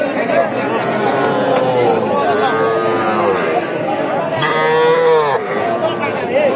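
A Sahiwal breed heifer moos repeatedly and loudly at a busy cattle market, with drawn-out lowing calls rising over a steady background of crowd chatter and other livestock.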